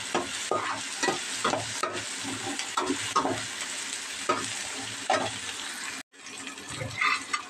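Onions frying in a pan for curry, a close sizzle broken by repeated spatula scrapes and stirring knocks, with a brief drop to near silence before the frying resumes.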